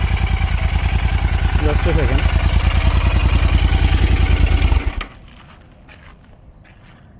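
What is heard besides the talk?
modified Royal Enfield Interceptor 650 exhaust idling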